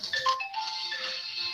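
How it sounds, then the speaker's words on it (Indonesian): A mobile phone ringtone signals an incoming call from a mother, a short, moderately quiet electronic melody of sustained tones without any talking. "ini ada telepon dari mamanya"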